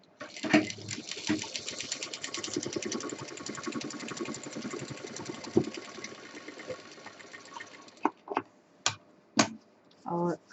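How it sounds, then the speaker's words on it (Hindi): A sewing machine stitches along a seam joining plain and quilted fabric for a feeding bottle cover, rattling steadily for about eight seconds, then firing a few short separate bursts. "जहाँ पर प्लेन कपड़ा और क्विल्टेड कपड़ा हमने जोड़ा है उसके ऊपर हम मशीन चला"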